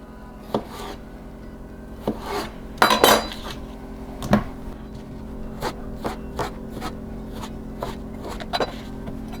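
Knife strikes on a board as a potato is cut into wedges, with pieces tossed into a bowl: a sequence of sharp clacks and knocks, one cluster louder, spaced irregularly and fairly close, with no talking.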